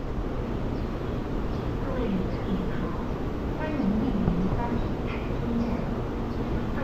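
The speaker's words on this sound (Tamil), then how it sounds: "நெக்ஸ்ட்டு நம்ம ட்ரெயின் வந்துட்டுருக்காங்க" A steady low rumble of a train rolling in at a station in Taiwan, with muffled crowd noise and faint squeals over the continuous drone.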